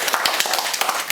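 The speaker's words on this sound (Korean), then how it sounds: "우리 오주환 박사님 위해서 박수 한번 칩시다" Applause at an interim officers' meeting, a dense, loud burst of clapping from a room of people, with sharp individual claps standing out in a steady run.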